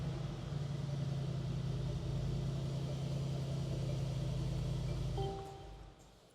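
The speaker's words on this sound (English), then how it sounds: "let me start the car" A Mercedes-Benz G-Wagon engine runs at idle inside a showroom: a low, steady rumbling hum that holds for about five seconds before dropping away and going quiet.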